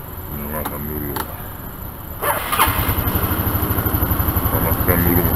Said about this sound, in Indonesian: Panaskan dulu mesinnya.